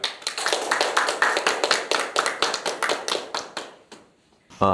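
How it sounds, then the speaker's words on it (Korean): A seated audience claps to welcome the panel chair at a Seoul financial innovation forum. The clapping is brisk and close, with uneven bursts that thin out and stop, followed by a brief sound at the very end. "큰 박수로 환영해 주시기 바라겠습니다"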